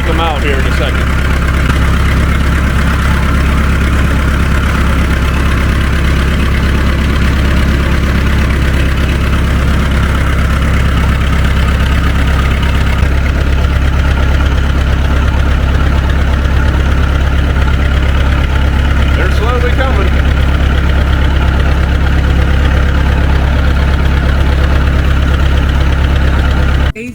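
A farm tractor idles loud and close with a steady low, knocking rumble that continues without a break, while people talk faintly underneath.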